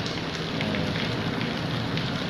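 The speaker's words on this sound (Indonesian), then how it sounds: "hujan masih terus turun" Heavy rain pours down steadily over the streets of Lahat city, a dense, even hiss of drops on surfaces with no talking.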